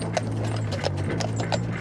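Working horses pulling carts walk on, hooves clip-clopping in a steady, even rhythm on hard ground, close and clear over a low engine-like hum.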